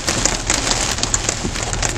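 Heavy rain pours steadily onto a moving car while driving, a dense continuous hiss with scattered sharper drop impacts and no talking.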